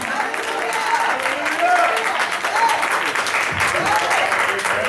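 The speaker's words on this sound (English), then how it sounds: "Clap your hands and give it praise." Church congregation clapping and cheering in praise during a sermon, a loud sustained burst of applause mixed with shouts and voices from the crowd.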